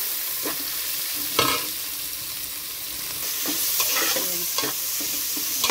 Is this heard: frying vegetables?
yes